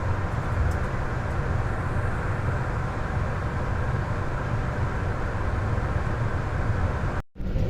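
Chennai to Bengaluru AC double decker express train 22625 running, heard from inside as a steady loud roar and rumble of wheels and motion, continuous throughout with a brief dropout near the end.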